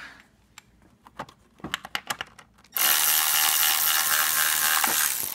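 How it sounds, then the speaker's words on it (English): Screws being worked loose from a Chevrolet Cruze front bumper during a factory fog light installation: a few sharp clicks and taps, then a sudden loud, steady whirring of a power driver that runs to the end. "we can't actually separate it until we finish getting these screws out"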